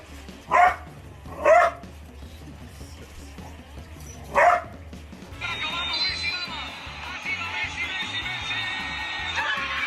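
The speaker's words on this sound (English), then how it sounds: "My dog's funny reaction to a pretend sneeze." A dog gives three sharp, close barks in reaction to a pretend sneeze, followed by a busy murmur of crowd-like background noise.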